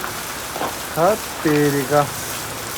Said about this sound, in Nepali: पानीले भयङ्कर स्वागत हान्यो यस्तो पानी पर्दैछ